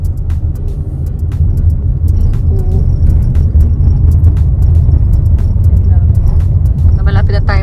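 A car driving along a road, with a steady low engine and road rumble throughout, a few faint clicks and thumps on top and a brief higher whine near the end.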